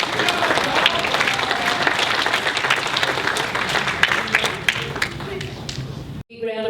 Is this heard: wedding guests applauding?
yes